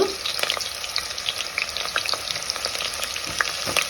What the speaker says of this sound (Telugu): పోపు అయితే వేగింది పోపు దినుసులు ఆనియన్స్ వేసుకున్నాం చిన్నగా కట్ చేసుకున్నాం ఆనియన్స్